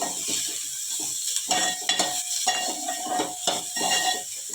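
Onions fry in oil while a spoon stirs them in a metal pan, giving a steady bright sizzle broken by frequent scraping and clinking strokes, close and fairly loud.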